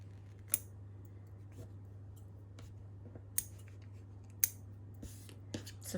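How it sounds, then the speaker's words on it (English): Scissors snip away loose threads on a handmade fabric journal cover, giving a few sharp, quiet clicks spaced out over a steady low hum, with no one talking. "I'm just trimming all the excess thread"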